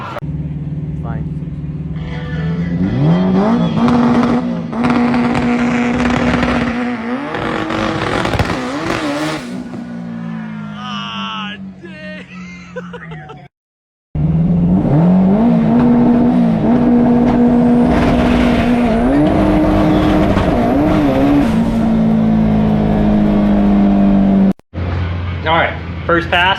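A powerful drag race car of about 1,400 wheel horsepower launches and accelerates down the track, roaring and revving hard, with harmonic engine tones climbing through gear changes, loud and close, briefly cutting out midway.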